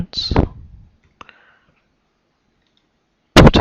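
A single sharp mouse click while setting a recurring task in task-management software, brief and clean, with talk just before and after.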